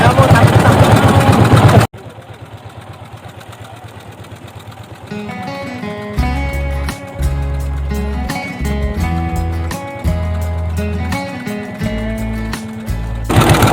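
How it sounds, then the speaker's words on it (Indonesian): A small fishing boat's engine running near an estuary while shrimp trawling, heard up close as a loud, steady low thumping drone with irregular knocking beats and some wind noise at the start. "Oke guys, mesinnya sudah mulai."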